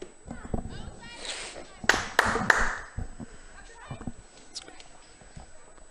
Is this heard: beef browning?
no